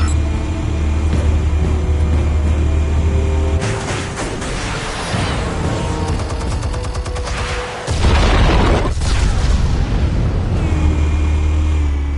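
Explosives detonating in the Batman Telltale Series video game: loud, continuous booming and rumbling blasts with crackling debris, dense and close throughout, surging again near the end.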